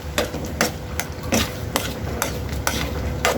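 A spatula stirring ginataang malunggay, moringa leaves simmered in coconut milk, seasoned with pepper in a pan, striking and scraping in about eight sharp, evenly spaced knocks over a low bubbling background, close and without voices.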